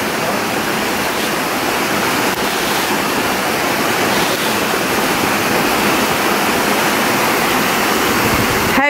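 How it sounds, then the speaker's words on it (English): A waterfall in the Yorkshire Dales pours steadily, a dense, continuous rushing roar of falling water that stays loud and even throughout, with no voices over it. "there's the waterfall there. Isn't it lovely?"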